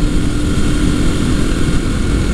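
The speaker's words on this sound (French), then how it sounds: "Bon, il y a un petit bruit de chaîne de distrib peut-être." A 1983 Honda XL250R trail motorcycle engine runs steadily on a ride, its loud, constant mechanical drone carrying a faint timing-chain rattle within the hum.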